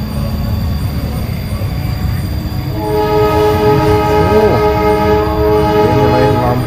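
Train crossing the Cirahong bridge, a steady rumble of wheels and cars that swells midway as a loud sustained horn blares, with faint voices nearby.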